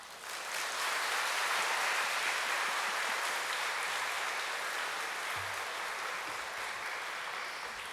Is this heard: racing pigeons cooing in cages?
no